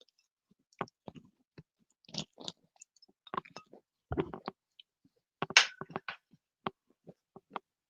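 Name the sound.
chewing food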